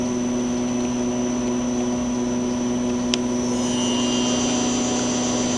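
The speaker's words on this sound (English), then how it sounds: "The spindle right now is running at 500 RPM." Steady mechanical whine and hum of a Miyano BND-34T5 CNC turning center with its spindle running at 500 RPM, a constant tonal drone with one brief click partway through and a slight shift in pitch near the end, no talking.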